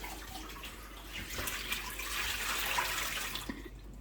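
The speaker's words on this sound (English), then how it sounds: "So let plenty of water run through that." Water running and splashing inside a Pinter home-brew beer keg as it is rinsed during cleaning, a steady broadband gush that swells midway and fades near the end, with no talking.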